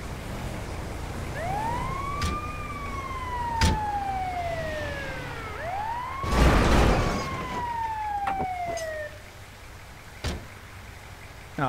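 Fire truck siren in the GTA V video game, wailing in rising and falling sweeps that repeat over steady traffic-like background noise, with a loud burst of noise midway and sharp clicks and knocks throughout.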